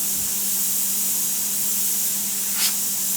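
Steady hiss of steam venting from a pressure canner while fire roasted sweet peppers are being processed, a constant broadband rush that holds evenly throughout with a low steady hum beneath.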